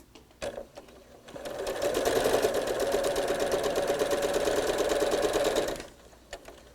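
A sewing machine stitches a quarter-inch seam on quilt pieces, running in one steady, close burst of rapid mechanical chatter for about four seconds, with brief handling clicks before and after.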